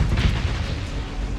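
A missile explosion in Starsector, a heavy low boom with rumbling decay lasting about a second, loud and close.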